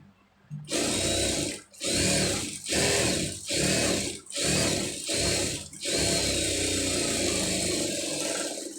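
A sewing machine stitches through a garment lining in short bursts that start and stop about six times, then settles into one longer continuous run, close and loud with no talking.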